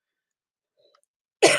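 A single short cough bursts out close and loud right at the end, after a near-silent stretch with only a few faint tiny sounds.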